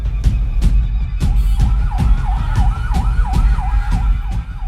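A fire truck siren wails in repeated rising and falling sweeps on a city street, mixed with sharp repeated bangs and road noise, fairly loud and near.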